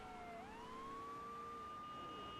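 A police car siren from GTA III The Definitive Edition wails in a steady, continuous tone that rises early on and then holds, fairly quiet and heard alone.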